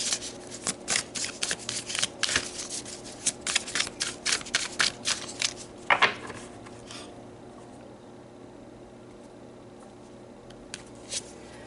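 Oracle cards are shuffled and pulled, giving quick papery riffles and snaps in clusters for about seven seconds, then near quiet with a couple of faint card flicks.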